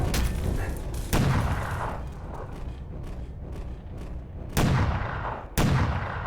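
Gunfire in the video game E.Y.E.: Divine Cybermancy, loud booming shots at irregular intervals, each leaving a rumbling decay over continuous background noise.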